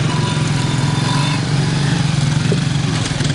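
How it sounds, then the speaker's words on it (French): Motorcycle engine riding along a muddy, slippery rural road, a steady loud drone with a rough low hum throughout, no voices. "Seuls les conducteurs de moto réussissent à s'y aventurer."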